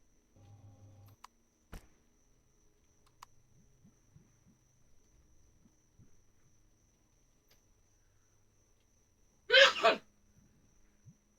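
A single loud, close sneeze bursts out near the end after a long stretch of near silence broken only by faint clicks and soft thumps.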